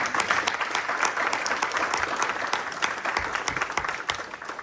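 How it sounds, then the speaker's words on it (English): An audience at a City of Pittsburgh celebration of Title IX's 50th anniversary claps steadily, a dense even patter of many hands with faint voices mixed in. "Clap it up for that."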